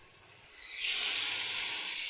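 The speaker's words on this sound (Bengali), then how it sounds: "এখন ভাজা মুরগি, বাচ্চারা মুরগির ভাজায় অনেক পছন্দ, এই জন্য মাংস ভাজা বসাইলাম।" Loud, steady sizzling hiss of chicken frying in a hot pan, swelling midway and then holding constant, with no voices.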